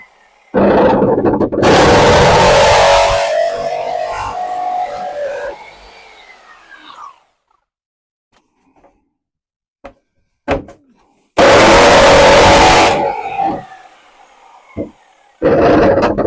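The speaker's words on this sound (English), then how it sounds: "Jigsaw might be quicker. Let's find out." A jigsaw cuts into a plastic Disney mouse droid in two loud, harsh bursts of buzzing. The first runs about five seconds and the second is shorter. Quiet gaps between them hold scattered clicks and knocks.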